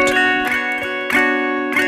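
Guitar riff from a song, played slowly on a sustained chord with a few deliberate strums and plucked changes, close and clear with no voice.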